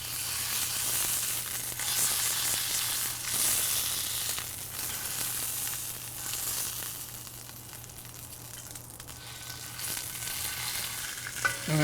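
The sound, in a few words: searing edges of Szechuan ribeye steak in pan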